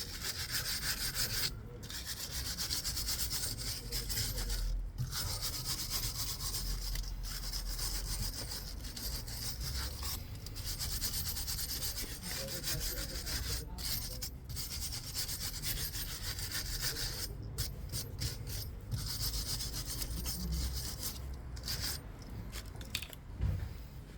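Scrubbing worn brake parts from a Citroen AX, a steady, close rasping rub repeated in strokes with brief pauses between them, alone with no talk.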